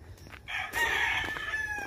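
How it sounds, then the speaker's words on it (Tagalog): Fighting rooster crowing once at a rural roadside in the Philippine countryside, a fairly faint, drawn-out call heard alone with slight ambient noise. "Manok pang sabong."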